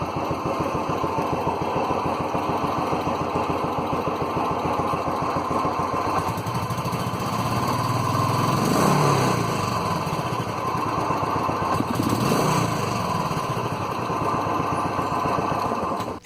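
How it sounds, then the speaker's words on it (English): A Royal Enfield Classic 350 motorcycle engine runs close by, a steady thumping single-cylinder idle with two brief revs rising and falling in the middle, no voices. "Let's hear how the Classic 350 sounds."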